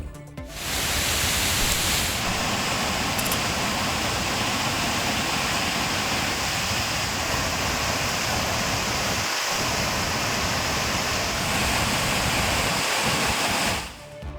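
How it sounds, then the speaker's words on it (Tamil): Manimuthar waterfall in heavy flood after continuous rain roars as a loud, dense, unbroken rush of falling water for the whole stretch, with nothing else audible over it. "தொடர் கனமழை காரணமாக மணிமுத்தாறு அருவியில் கடும் வெள்ளப்பெருக்கு."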